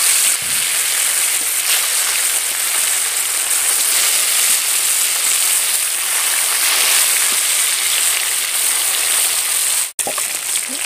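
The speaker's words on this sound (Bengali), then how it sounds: "এবারে মাছগুলো একটা একটা করে ভেজে নেব।" Bhola fish pieces fry in hot mustard oil, giving a loud, steady, unbroken sizzle that holds evenly throughout and cuts out sharply for a moment near the end.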